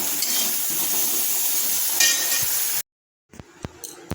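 Mango pieces fry in a pan for chutney with a steady sizzle and occasional stirring clinks, then a sudden cut to silence followed by a few sharp utensil taps and scrapes.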